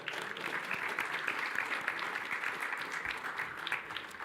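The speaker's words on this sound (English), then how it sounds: "let's give them a round of applause anyway" Steady, distant applause from a conference audience at an economics meeting fills the whole stretch as an even, diffuse wash of many hands, fairly soft and without voices on top.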